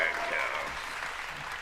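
An audience claps and cheers in a dense, steady burst of applause, with voices mixed in underneath.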